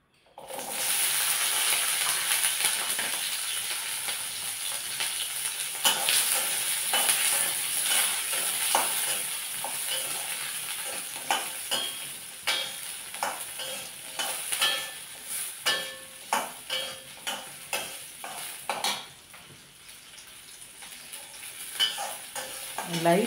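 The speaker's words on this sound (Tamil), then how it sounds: "இப்போ எண்ணெய் சூடாயாச்சு. இதில் இந்த சின்ன வெங்காயத்தை போட்டுடலாம்." Shallots frying in hot oil for a garlic chutney, a steady close sizzle with frequent sharp scrapes and clinks of stirring that grow more rhythmic toward the end, no talk.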